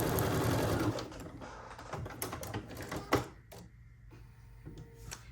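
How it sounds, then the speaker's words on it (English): A sewing machine stitching a small quilt piece for a quilt-as-you-go project runs in a steady, fast mechanical whir, close and clear, then slows and stops with a few clicks and faint handling noises. "I am going to stitch this little piece on."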